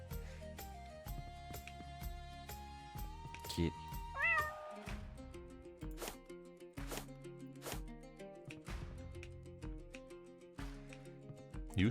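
Cartoonish cat meows in a cozy shop-cleaning video game, a short rising meow heard over bouncy, plucky background music with chopping-like game effects.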